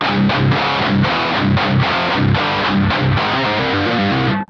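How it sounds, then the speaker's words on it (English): A heavy, chugging distorted electric guitar riff with tight palm-muted downstrokes, loud and driving, with choppy rhythmic bursts and no voices. "It's heavily palm muted,"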